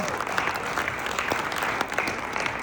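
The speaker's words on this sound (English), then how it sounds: "Give an applause for Rob." Audience applause at a recruiting event in Las Vegas, steady dense clapping filling the whole stretch at even loudness, with faint voices mixed in.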